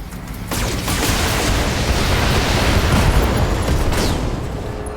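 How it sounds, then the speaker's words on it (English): An AC-2 ammunition explosion in the BattleTech video game: a sudden loud blast that swells into a dense, sustained rumbling roar for several seconds before tapering slightly, with no voices. "AC-2 ammo explosion."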